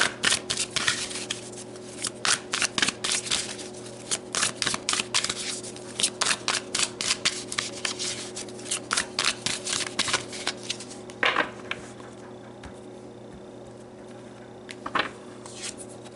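Tarot cards being shuffled by hand, heard as rapid crisp riffling and flicking bursts repeating in quick clusters. Later a few isolated snaps and slaps come as cards are drawn and laid down, with no talking.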